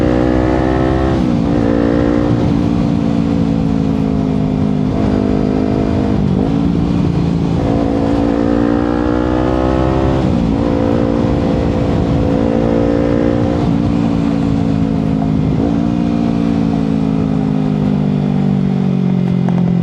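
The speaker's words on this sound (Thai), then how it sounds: "อาจริงนินจาสามร้อยมันก็ขับแบบว่าขับดีมากๆนะ" Kawasaki Ninja 300 engine droning steadily while riding, loud and close, with repeated gear shifts and revs rising and dipping across the whole stretch, no voices.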